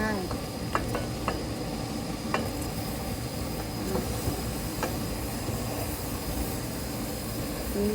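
Straw mushrooms tossed and stir-fried in a hot pan, a steady sizzle and hiss with scattered clinks and scrapes of stirring, continuous and fairly close, with no talk over it.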